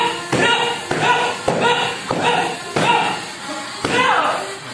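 Hard kicks, including mawashi roundhouse kicks, strike a pad in a steady series of about six sharp, heavy thuds, each followed by a short ringing decay.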